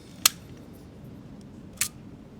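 An Agfa Silette I film camera fires its shutter in bulb mode, giving two sharp, close clicks about a second and a half apart over quiet room tone.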